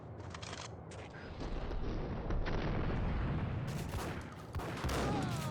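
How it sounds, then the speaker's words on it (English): Shotgun blasts in Max Payne boom amid dense game action, several heavy, loud reports landing at irregular intervals over a thick rumbling background. "Shotgun's still good."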